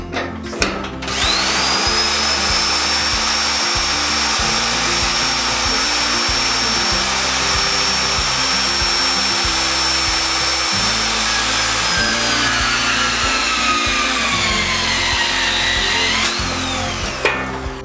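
A power wrench drives TS bolts home on steel H-beam reinforcement in a 30-year-old building renovation, with a loud, sustained mechanical whine over rapid rhythmic hammering pulses, close up and continuous for the whole stretch, with no speech.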